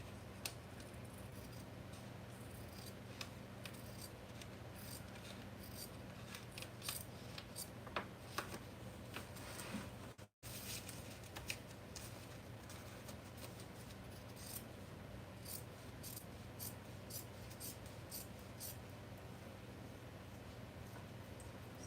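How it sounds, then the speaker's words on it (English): Scissors cut through fabric on the floor while a bag is being made, giving quiet, repeated snipping and crisp ticking cuts at a steady pace with a brief gap partway through, close by and low in level. "I have to cut on the floor"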